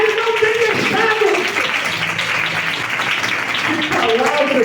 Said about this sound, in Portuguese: eu quero convidar a você a aplaudir a Jesus